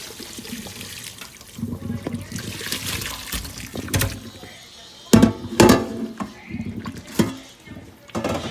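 Cold tap water runs steadily over cooked chicken in a kitchen sink while making tinga, a continuous splashing rush with several louder bursts as the flow hits the meat.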